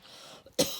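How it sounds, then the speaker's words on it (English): A single sharp cough bursts out after a brief quiet pause, close and fairly loud, following a soft throat sound. "Sorry, excuse me, coughing."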